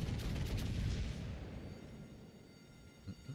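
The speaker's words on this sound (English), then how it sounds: "That should be a kill shot, right?" Gunfire in a multiplayer video game: a loud, dense booming shot at the start that rolls off into a long rumbling tail, followed by a couple of soft thumps, with no talking.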